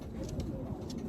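Pigeons coo softly in a low, steady murmur, with a few faint higher bird calls over close, continuous rumbling background noise.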